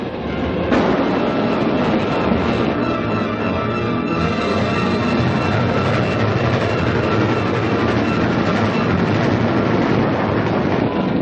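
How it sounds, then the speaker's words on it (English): Dense, steady rumble and rattle of a train rushing along the rails, filling the scene continuously at high volume for a 1948 Canadian Mounted Police serial. "We have to stop this train. It's going to be derailed."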